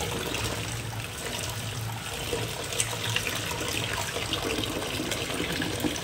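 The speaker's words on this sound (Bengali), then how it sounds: "আমের সমান সমান জল দিয়ে আমটাকে 2-3 মিনিট ভিজিয়ে রাখবো" Water poured over cut mangoes in a bowl for soaking before pickling, a continuous quiet splashing trickle that carries on steadily and alone.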